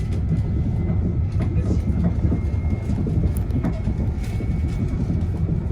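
A southbound train passes on the fast lines near Leyland, a loud continuous low rumble with faint clicking wheels throughout, birds faintly audible above it.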